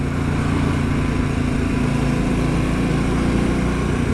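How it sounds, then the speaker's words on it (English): Harley-Davidson Pan America motorcycle engine running steadily, a loud, continuous low throb with a buzzy rumble and no gaps, heard close up without anyone speaking. "The engine sound off this is lovely."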